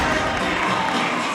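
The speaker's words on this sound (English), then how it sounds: "And the crowd is wild because she is back" A crowd at a women's college gymnastics meet between Florida and Auburn roars and cheers loudly and continuously, a dense wall of voices and shouts with faint commentary beneath.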